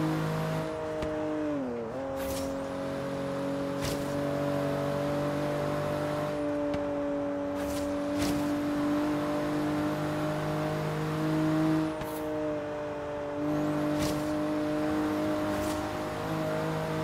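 Turbocharged inline six-cylinder 3-liter car engine in the video game Forza Horizon 3, droning steadily at high revs with brief dips at gear shifts and a continuous whine, fairly quiet throughout.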